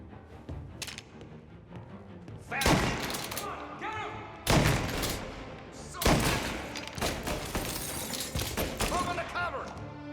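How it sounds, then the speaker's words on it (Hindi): A shotgun fires in the Mafia video game in several loud, sharp blasts spaced a couple of seconds apart, each followed by ringing decay. Game sounds fill the gaps between shots. "मैं शॉटगन क्यों चला रहा हूँ लॉन्ग रेंज के लिए?"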